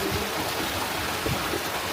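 Clear, fast-flowing stream water at a crayfish farm, a steady broadband rush close by with no voices.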